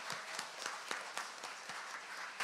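A church congregation claps at an Easter Sunday worship service, a faint, steady patter of many hands heard from a distance, with a few sharper individual claps standing out.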